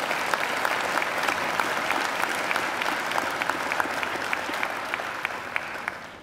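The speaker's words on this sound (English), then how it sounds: "Please join me in giving Angela another great round of applause." A graduation audience gives a steady round of applause for the singer Angela, dense even clapping that holds for several seconds before tapering off at the end, with no talking.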